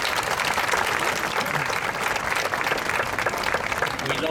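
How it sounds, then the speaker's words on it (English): Enthusiastic applause for parents at a Class of 2022 graduation ceremony, a large crowd clapping steadily and loudly throughout with no gaps. "So let's give them a big round of applause."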